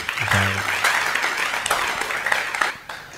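Applause from an audience at a Ramadan Quran study gathering in East Java, honouring a community leader; a short burst of clapping with a brief low voice at the start, steady then tapering.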